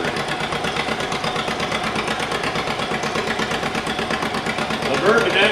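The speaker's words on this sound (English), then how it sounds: "Laverne's driving a 1947 G John Deere" A 1947 John Deere G tractor engine chugs in a steady, rhythmic beat at an antique tractor pull, holding a constant loud drone with voices talking over it.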